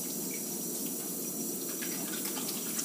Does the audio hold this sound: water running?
yes